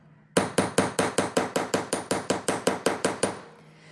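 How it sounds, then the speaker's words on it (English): Silver wire earrings being hammered for texture, about fifteen sharp, evenly spaced metallic strikes, loud and close, with no talking. "I'm just hammering these, giving some texture to them."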